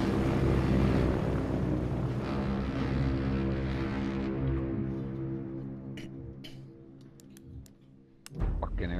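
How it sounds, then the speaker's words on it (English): An enemy bomber airplane in Battlefield 1 drones loudly overhead with a dense engine roar that slowly fades into the distance, followed by a few sharp clicks and a thump near the end. "Feindlicher Bomber, aufpassen!"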